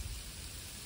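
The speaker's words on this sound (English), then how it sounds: "It's raining right now." Steady rain falls during a morning winter storm with snow in Charlotte, North Carolina, a soft, even hiss of drops that stays constant and fairly faint throughout, with no voices.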